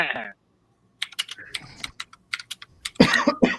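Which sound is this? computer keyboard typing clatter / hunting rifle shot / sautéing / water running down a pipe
computer keyboard typing clatter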